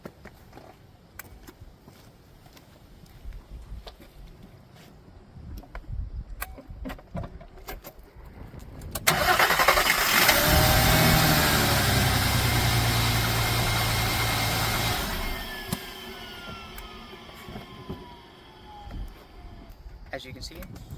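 A car engine cranks and catches using a Green Keeper GK-J1203 jump starter, then roars loudly at close range for several seconds before dropping back to a rougher idle, with talking around it.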